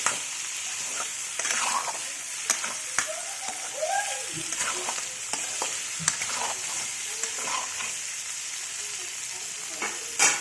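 Baby potatoes frying in a pan while being stirred until golden, a continuous sizzle with repeated spoon scrapes and knocks against the pan, close and steady.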